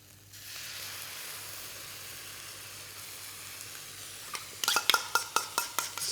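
Chilli crab stir-frying in a wok over high heat gives a steady loud sizzle and hiss, and near the end a run of sharp metallic scrapes and clatters comes at a quick rhythm.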